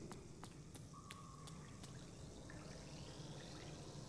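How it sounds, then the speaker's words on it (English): Water trickles and flows steadily in the Hollow Knight video game, a soft continuous wash with a few faint drips and chimes on top. "we turned on the water flow?"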